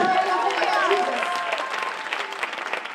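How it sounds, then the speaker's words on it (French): A church congregation applauding and cheering in praise of the Lord Jesus, a dense, sustained wash of clapping and crowd voices that continues steadily and thins slightly toward the end. "Est-ce que quelqu'un peut acclamer le Seigneur Jésus?"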